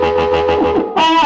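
A harmonica plays a short phrase through a crunchy Fender Super Reverb tube amplifier, with a gritty, distorted tone and a brief pause before a bright held chord.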